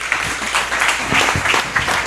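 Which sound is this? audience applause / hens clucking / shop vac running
audience applause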